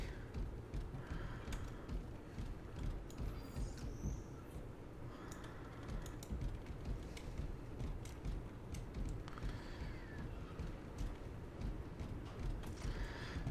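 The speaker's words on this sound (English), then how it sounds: "It's like that's either metal warping and being stressed or something's sneaking up on me." Old metal ship hull in Space Hulk Deathwing groaning and creaking, with scattered faint squeaks and ticks over a dense low rumbling ambience, sustained and uneasy.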